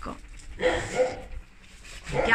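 Female puppy at a dog shelter in Laterza, giving a few short yips and whimpering barks in bursts at close range, with faint background noise.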